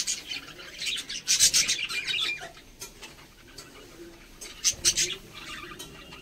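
Small birds chirp around a clay nesting pot in bursts of bright, high twittering, strongest near the start and again toward the end, over a quiet, rustling background.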